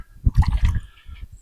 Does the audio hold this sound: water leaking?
yes